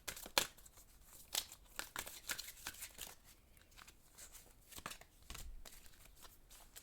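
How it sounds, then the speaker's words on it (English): Tarot cards shuffled and pulled during a love reading: a run of crisp papery riffles, flicks and slaps, some sharp and close, others softer, scattered unevenly with no talk. "So I'm going to pull again cards for your person's current feelings about"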